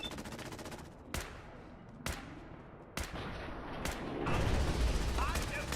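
Gunfire in Fallout 4: four distinct sharp shots spaced about a second apart over a dense background of game ambience, with a louder burst of noise at the end; moderately loud.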